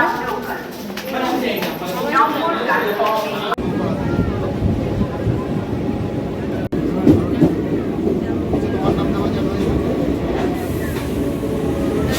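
A train rolls along with steady rumbling and clattering, loud and close, while people talk in the background.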